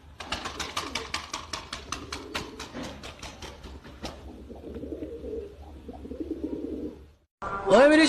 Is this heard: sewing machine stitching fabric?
no